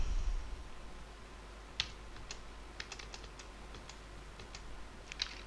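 Scattered computer keyboard keystrokes tapped at an irregular pace while entering network setup commands, ending in a firm press of the enter key; quiet and close, with no talking.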